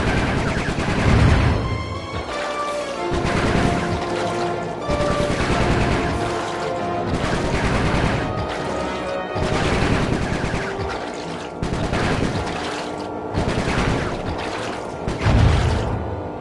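Bursts of gunfire from shooting in the Sly 3: Honor Among Thieves video game, with repeated loud volleys and sustained rapid fire across the whole stretch, layered with game sound effects and music.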